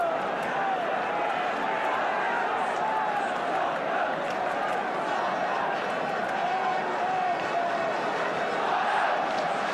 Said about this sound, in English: So now that's a happier Tottenham crowd